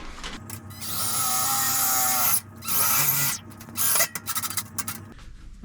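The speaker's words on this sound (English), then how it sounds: "I'm going to try, when I screw the sides, to go through those tabs." A power drill drives screws into the sides of a camp wood stove being built, giving several whining, grinding bursts of varying length, close and fairly loud, with short quiet gaps between them.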